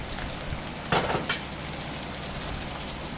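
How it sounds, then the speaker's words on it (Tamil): Fish frying in a pan after a cast-net catch gives a constant loud, close sizzle with a couple of brief spattering bursts in the middle. "இங்கே பாருங்கள், ஃப்ரை பண்ண ஸ்டார்ட் பண்ணிட்டோம்."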